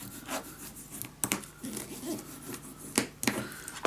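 Folded paper is burnished down by hand during scrapbook mini album crafting, giving soft repeated rubbing and scraping strokes close up with a few sharper taps.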